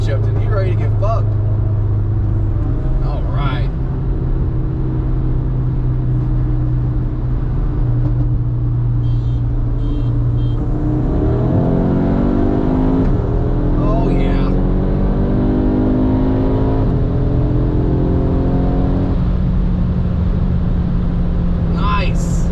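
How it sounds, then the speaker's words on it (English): Loud crackle-tuned Honda Civic pulling hard, a deep throaty engine drone that swells into a rising rev, recorded close with some talk over it. "Civic will do a pull. It's loud, like disgusting loud."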